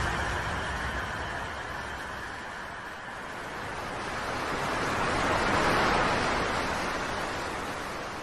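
Water pouring steadily from a cow-mouth spout in front of a temple, a continuous rushing splash that swells slightly midway, heard alone with no talk.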